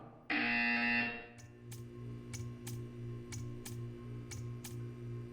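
In the video game Portal 2, a loud electronic buzzer blares for about a second, then a quiet hum remains with a series of sharp, evenly spaced clicks.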